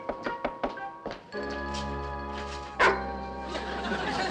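A dog gives several short barks and yips in quick succession, followed by a thunk and a sustained low hum, in an indoor scene from a classic TV sitcom.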